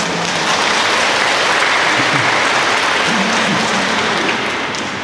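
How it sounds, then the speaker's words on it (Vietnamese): A congregation applauds inside a church during Sunday Mass, a loud, dense, sustained clapping that holds steady throughout before easing slightly at the very end. "Vỗ tay."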